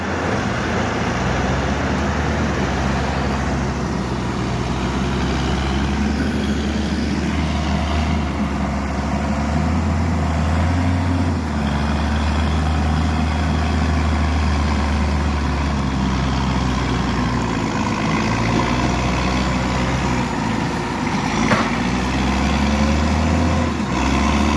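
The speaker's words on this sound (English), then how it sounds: "That Paul in that old tractor?" An old tractor engine idles steadily nearby, a continuous low chugging rumble that carries on throughout without talk.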